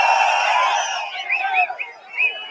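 A crowd cheers and shouts at an ADMK political rally for Edappadi Palaniswami, with loud massed voices at first, then scattered whoops and calls rising and falling.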